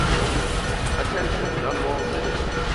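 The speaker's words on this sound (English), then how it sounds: "Oh yeah, the train." A train in the stealth game Dishonored rumbles past in a steady, loud roar with a rattling clickety-clack texture, joined by faint game ambience and a voice talking over it.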